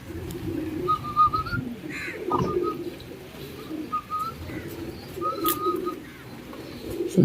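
Pet pigeons coo in soft, repeated low calls near a doorway on a rainy day, with faint whistle-like chirps over steady background noise.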